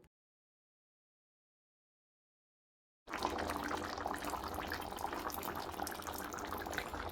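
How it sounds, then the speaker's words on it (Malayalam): Water pours steadily into simmering curry gravy made with taro root, a continuous close rushing splash that starts abruptly partway through after a stretch of silence and holds at an even level to the end. "ഗ്രേവിക്ക് വേണ്ടിയിട്ടുള്ള വെള്ളം കൂടി ഒഴിച്ചിട്ട് നമുക്ക് ഇളക്കി യോജിപ്പിക്കാം"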